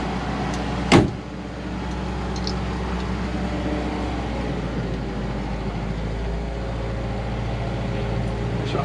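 An Austin Gipsy G4M10 rumbles steadily at low speed inside a cramped shop, a low, even engine drone heard up close, with a sharp knock near the start.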